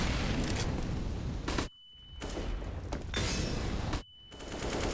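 Counter-Strike match audio: dense bursts of in-game gunfire and flashbang blasts fill the mix loudly, broken by two brief near-silent gaps before the shooting resumes.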